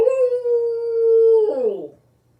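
A human voice imitates a dog's long, drawn-out howl, holding a steady pitch before sliding down and trailing off.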